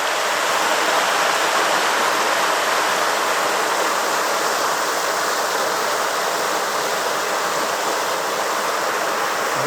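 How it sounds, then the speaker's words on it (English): The South Fork of the Sun River in a mountain wilderness rushes steadily nearby, a broad continuous roar of flowing water with no pauses, heard alone. "This is the South Fork of the Sun River."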